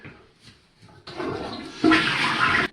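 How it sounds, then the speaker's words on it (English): A toilet flushes nearby, starting with a rushing burst of water that swells louder into a full gurgling flush before cutting off, with no talking over it. "Alright, flush the potty."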